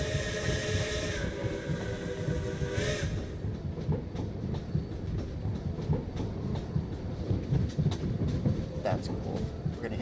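A train running through a snowy winter landscape in a video game, heard from outside as a steady rumbling, hissing clatter with faint clicks throughout.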